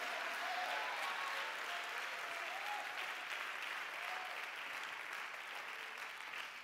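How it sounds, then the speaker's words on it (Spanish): A church congregation applauds continuously for several seconds, an even, thick rain of clapping with faint voices mixed in, slowly tapering toward the end. "Dale un aplauso al Señor si usted cree."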